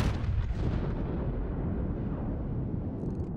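Naval turret guns firing in the World of Warships video game, heard as a continuous dense rumble of heavy booming gunfire with no clear gaps, loud and close throughout.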